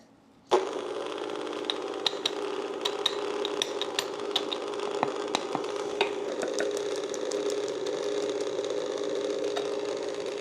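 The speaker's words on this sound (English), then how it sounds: "we're gonna mix that all until it's well incorporated" An electric mixer runs steadily through pumpkin bread batter of flour, salt and wet ingredients, starting abruptly and holding a constant close whirring hum with small clicks and taps, with no talking.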